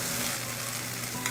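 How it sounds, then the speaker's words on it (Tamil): Crumbled fried egg with fresh coriander is stirred in a hot pan, a continuous close sizzle with soft scraping of the spatula, no voices. "மல்லித்தலை சேர்த்து கிளறி விட்டுடலாம்"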